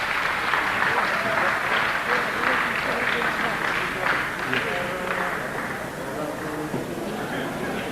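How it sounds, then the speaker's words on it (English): Sustained crowd applause after the first junior flyweight boxing bout, steady and loud throughout, with voices mixed into the clapping. "How about a big round of applause there for Paul and Nathan after the first bout"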